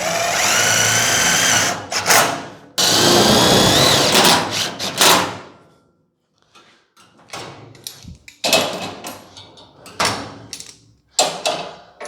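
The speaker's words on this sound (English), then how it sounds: "let's get a couple screws in there." A power drill drives screws into the front of a 1951 Ford shoebox, giving two long whirring bursts, then a series of shorter stop-start drill runs separated by brief pauses.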